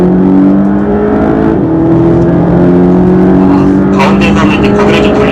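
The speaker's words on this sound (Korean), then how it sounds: "임의적으로 이제 극가속과 감속을 하면서 이제 그 소리를 이제 녹음을 했는데요" A car driven through deliberate hard acceleration and deceleration during dynamic driving-sound measurement at the Hyundai-Kia Namyang research center; a loud, steady engine drone with shifting tones runs throughout, with a brief whooshing rise near the end.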